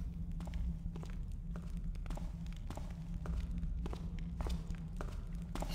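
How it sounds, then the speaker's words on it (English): Footsteps crossing a metal bridge in the stealth game Thief: a series of light, irregular taps spread over a steady low hum, fairly faint and without any talking. "I heard two lots of footsteps going across that metal bridge."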